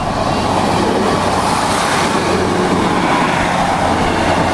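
A train rumbles past a level crossing on the line toward Lowestoft, a loud, close, steady roar of wheels and carriages with faint clickety-clack running throughout, and no voices.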